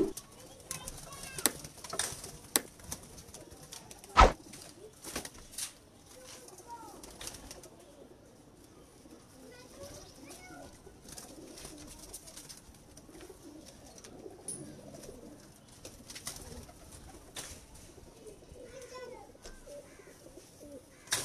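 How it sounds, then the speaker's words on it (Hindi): Teddy pigeons of the Mian Nazeer bloodline give soft, sparse coos with scattered clicks and shuffling, a sharp knock near the start, faint and close in a quiet loft. "टैडी कबूतर, मियाँ नज़ीर साहब वाली ब्लड लाइन"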